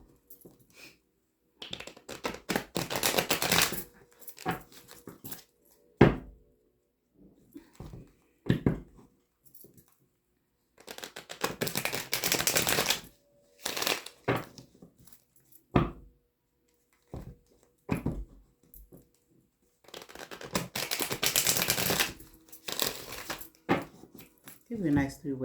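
Bursts of crisp papery riffling and soft slaps as a deck of tarot cards is shuffled repeatedly, with pauses between rounds.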